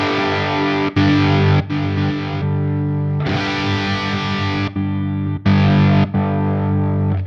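A distorted Marshall-style electric guitar tone from a Fractal FM3 modeler sustains chords that cut out in brief silent gaps as channels switch, then resume at full loudness, repeating several times.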